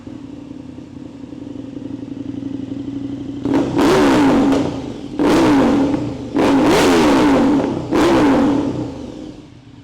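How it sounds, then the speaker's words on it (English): A twin-engine motorcycle fitted with a slip-on exhaust idles with a steady throb, then fires off four loud, sharp revs in a row, each rising quickly and dropping back to idle. "I'm gonna give it a few revs for the heck of it."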